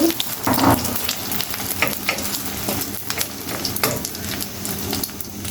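A batter-like mixture poured into hot oil for a Chinese-style dish, frying with a bright crackling sizzle and a few louder bursts near the start, then steady spattering and stirring, close and unaccompanied by speech.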